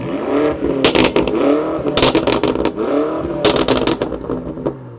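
A 2021 BMW M5 Competition's optional titanium exhaust heard from outside, with revving engine surges punctuated by loud crackles and pops, near and aggressive.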